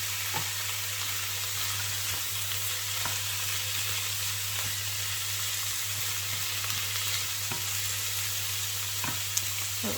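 Diced vegetables frying and being stirred in a pan for a gluten-free vegan nut roast, a steady soft sizzle with occasional scrape-like stirring ticks over a constant low hum.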